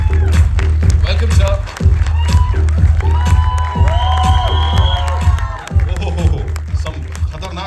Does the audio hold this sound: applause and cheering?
yes